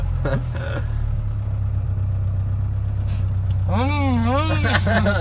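A car engine runs steadily through the whole stretch as a low, constant drone with a rising rev, while voices talk and laugh over it.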